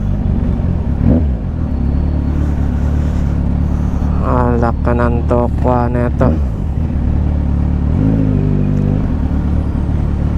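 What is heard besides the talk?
heavy traffic around scooter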